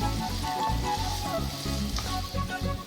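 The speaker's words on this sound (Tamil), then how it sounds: "எண்ணெயிலே அந்த வெங்காயம் நல்லா வதங்கட்டும்." Onions sizzle steadily in hot oil while cooking biryani-style eggplant, a continuous close crackling hiss with no voices.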